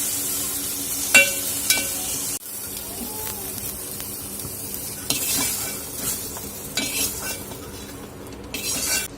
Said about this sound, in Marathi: तर आपले टोमॅटो ही छान भाजत आले आहेत